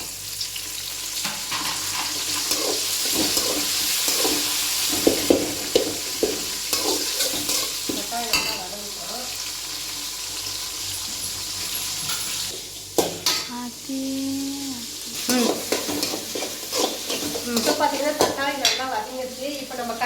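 Onions sauté and sizzle in a pan as village-style mango sambar gets started, with a steady frying hiss broken by intermittent stirring scrapes and clinks of the utensil.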